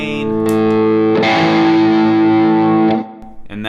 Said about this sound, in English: My preferred Strat sound would be neck pickup, a little bit of gain,